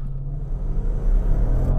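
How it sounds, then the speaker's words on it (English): Range Rover Velar SVR with a supercharged V8 and all-wheel drive launching from a standstill, a heavy close-up engine rumble that swells as it pulls away, heard alone without talk. "All I'm going to do is hold it on the brake, rev it up a bit and release the brake."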